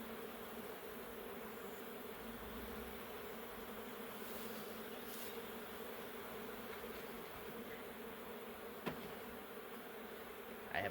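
Honey bees buzzing around hive boxes on a warm day, a steady faint droning hum of many bees close by, with a brief click near the end and no talk.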